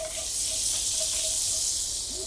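Minced shallots sizzle in a little butter in a pot, a steady close hiss with no breaks and no talk over it.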